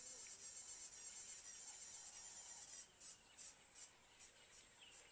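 Cicadas buzz with a steady, shrill high-pitched drone in the bush at Djuma, South Africa, then break into a series of rhythmic pulsing bursts; faint and continuous, with no voices.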